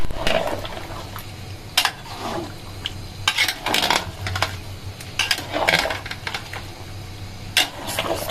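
A pot of boiling beef biryani stirred in Old Dhaka cook style, with bursts of scraping and clanking from the spoon against the pot over a low bubbling rumble, coming in uneven strokes.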